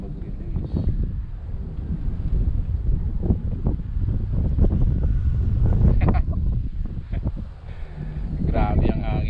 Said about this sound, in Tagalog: Grabe ang hangin